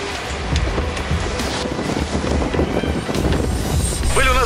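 Strong headwind of about 25 knots buffets the microphone aboard a yacht in the Strait of Messina, a constant broadband roar with water rushing below and a brief higher tone near the end.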